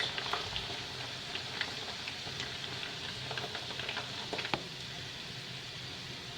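Minced meat frying in a pan for a Turkish eggplant dish, a steady hiss of sizzling fat with scattered soft pops and small stirring clicks, close and continuous, no voices.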